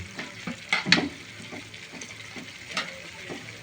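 A boiling crab dish in a pot is stirred, with a bubbling sizzle underneath and a few scraping, clinking strokes of the spoon, close and moderately quiet.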